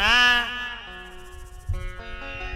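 A human voice imitates a goat's bleat with a wavering, nasal, quavering call, followed by further tremulous bleating tones over a faint background.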